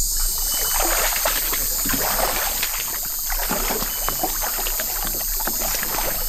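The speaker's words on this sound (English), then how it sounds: "We are riding through the flooded jungle." Boat riding at night through flooded Amazon jungle, a steady wash of water and hull noise with a constant high insect drone, no talking.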